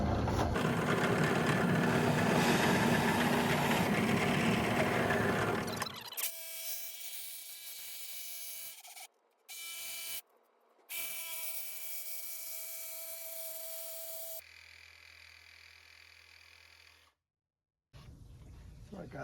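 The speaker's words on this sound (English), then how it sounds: "I'm going to drill a hole right through here that I can put my jigsaw into and cut out the" A jigsaw cuts out the inner circle of a wooden balance board, a loud buzzing, rattling run that breaks into several shorter bursts separated by brief pauses.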